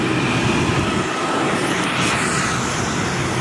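Piper Arrow Turbo light aircraft in flight, its engine giving a steady, loud, broadband drone heard from inside the cabin, with no talk.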